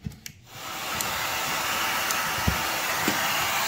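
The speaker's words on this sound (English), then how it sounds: "I'm going to connect the vacuum hose." A newly installed central vacuum unit starts up once the hose is plugged in, giving a steady, loud rushing whine that holds without a break after a few short clicks and knocks at the start.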